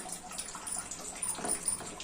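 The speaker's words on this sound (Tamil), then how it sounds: "இப்போ தேவையான அளவு தண்ணி சேர்த்து இதை நல்லா நம்ம கொதிக்க விடலாம்" Water pours steadily into a cooking pot for egg curry with a soft, splashy hiss, close by and fairly quiet, with no voices.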